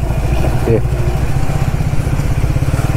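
Motorcycle engine running in third gear on a long-distance ride to Muktinath from Pokhara, a steady pulsing drone that holds close and loud, with brief speech over it near the start.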